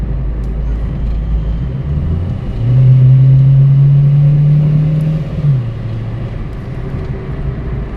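An Acura RSX engine idling, then a deeper droning rise as it accelerates for a few seconds before easing back to a steady rumble.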